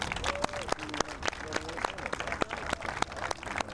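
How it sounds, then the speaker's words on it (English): Applause from a gathered crowd at a bus line extension ribbon cutting, steady scattered clapping continuing for several seconds with voices and a few shouts mixed in. "please join me in giving a huge round of applause to GRTC CEO, Ms. Cheryl Adams."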